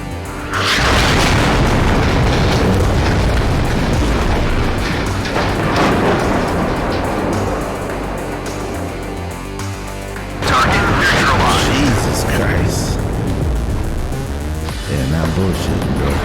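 Artillery fire and explosions in the WARNO video game, with continuous loud booms and rumbling blasts over about sixteen seconds and fresh heavy impacts near the start and again later, under a dense battle din.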